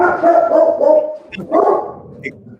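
A dog barks in a few short bursts during a band rehearsal. Talk and music blend underneath the barks.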